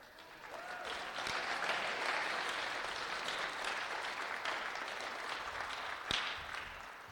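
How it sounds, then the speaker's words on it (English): A room of people gives sustained applause at a senior night event, steady even clapping from many hands at a fairly soft level, with a sharper knock near the end. "a round of applause for Michael B.,"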